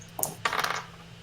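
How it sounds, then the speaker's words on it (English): Dice for a tabletop role-playing game clatter onto a hard surface, with a short first rattle and then a longer tumbling burst that settles quickly. "Use the dice, Luke."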